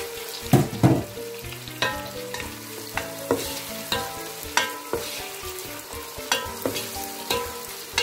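Tomato and garlic fry in a pan with a steady close sizzle, punctuated by regular scraping stirs and soft clinks of the utensil against the pan, no voices.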